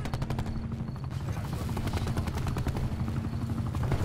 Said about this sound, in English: Is that our helicopter?